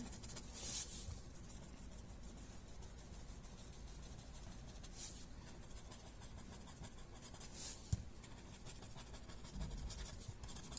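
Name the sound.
pencil shading being blended on paper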